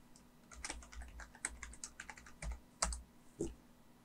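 Fingers tap a computer keyboard at a login screen during an Ubuntu Server 18.04 LTS install, a quiet close run of uneven clicks ending in a few heavier key presses, with no voices.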